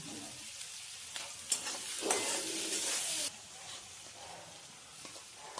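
Green chilies sizzle in a hot oily pan while being stirred, a steady frying hiss with scraping strokes, one loud burst of sizzle when they turn, then a quieter simmer.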